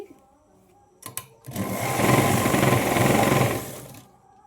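A sewing machine stitching a Punjabi dress runs in a loud, steady burst for about two and a half seconds after a couple of short starts, then stops.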